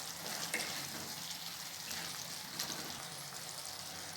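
Cauliflower pepper fry with ghee and a little coriander stirred in a pan, a faint even sizzle with a couple of soft spatula knocks, no voices.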